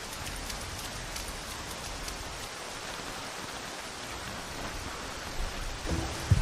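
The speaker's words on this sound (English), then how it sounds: "But as the rain eases up" Steady rain falling in the jungle, a dense even hiss of drops with a few closer splatters near the end, no voices.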